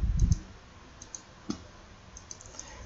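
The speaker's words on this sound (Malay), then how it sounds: "saya guna hand, saya tekan space bar, saya lepas space bar" Sparse clicks on a computer keyboard and mouse during Photoshop editing: a soft low thump near the start, then scattered light taps and clicks spaced out over quiet background, close and faint.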